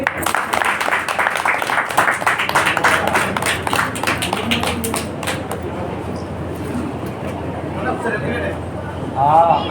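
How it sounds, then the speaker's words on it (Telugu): Children clap loudly at a Buddhist Aksharabhyasam ceremony, a dense, rapid burst of applause that tapers into scattered claps, with voices talking over it. "గట్టిగా చప్పట్లు కొట్టండి"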